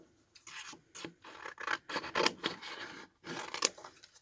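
A pair of scissors cuts through craft material for embellishments, giving a string of close, raspy snips and scraping strokes in an uneven rhythm, with no talking.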